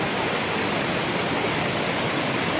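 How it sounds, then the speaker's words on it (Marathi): A fast-flowing stream near Devkund waterfall rushes in a dense, even roar, close and unbroken, with no voices. "इथे समोरच पाण्याचा ओढा आहे बघू शकता तुम्ही"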